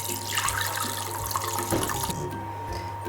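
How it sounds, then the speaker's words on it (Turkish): Lemon-peel sugar syrup poured through a strainer into a bowl for lemon ice cream, a steady close splashing trickle that runs for about two seconds, then thins to a faint dribble with no talk. "Üzerine süzgecimizi koyduk ve limon kabuklu şekerli suyumuzu kabımıza aktarıyoruz"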